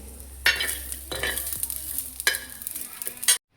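Coconut, coriander, onion and chana dal dry-roast in a pan, with a few sharp stirring scrapes and a soft, low sizzle between them. The sound stops abruptly at the end.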